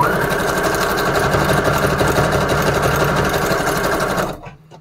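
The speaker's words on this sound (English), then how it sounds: "zigzag stitch just to add a little bit of interest. Make it a little bit big. And I'm going to sew the whole thing." A sewing machine runs steadily, stitching a zigzag stitch through a handmade junk journal. The motor whirs loud and close without a break for about four seconds, then cuts off abruptly. No one talks.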